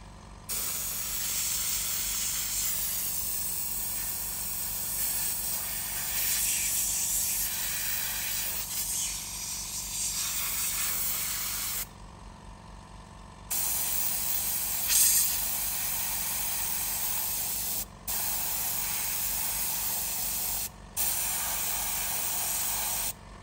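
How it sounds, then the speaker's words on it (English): Spray is applied to the leather steering wheel of a Jaguar XK8 in long, steady hissing bursts, loud and close, with a few brief pauses between passes. "So I think we've got it all sprayed"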